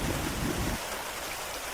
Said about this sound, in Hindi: रिमझिम बारिश होनी शुरू हो जाती है।